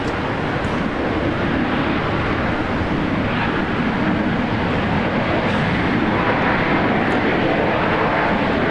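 A Qantas airliner lands on runway 19 right at Brisbane Airport, its engines a broad, continuous roar that holds steady and loud throughout, with no voices over it.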